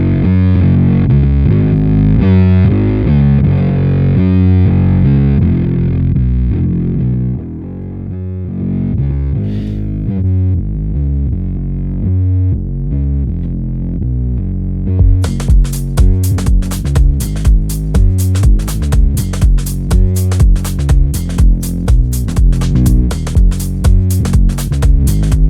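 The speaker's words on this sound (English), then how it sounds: "it sounds like a good distortion" A heavily distorted house music bass line from a distortion plugin, gritty and loud, shifting partway through into a choppy, rhythmically pulsing processed texture.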